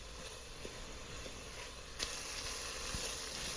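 Garlic and onions with salt and pepper frying in a pot for beef stew, a soft steady sizzle and faint hiss with a couple of light pops, close but quiet.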